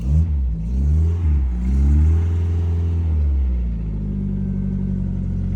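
A vehicle engine, close by, rises and falls in pitch through a couple of revs, then settles into a steady, low idling rumble.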